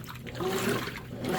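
A GE GTW335ASN1WW top-load washing machine agitating women's clothes and kids' wear, giving a steady wet sloshing and churning of water, close and continuous with no voices.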